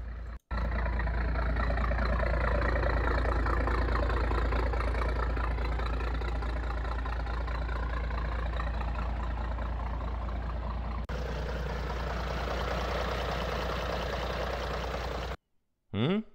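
A large Scania turbo diesel engine idles steadily with a deep, rumbling low thrum, loud and close, continuing for a long stretch before cutting off.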